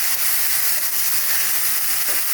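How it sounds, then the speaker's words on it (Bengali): Ginger-garlic paste frying with browned onions in a pan, a steady broad sizzle that hisses on evenly throughout with no talk over it. "এখন এই আদা রসুনের পেস্টটা দিয়ে দিলাম।"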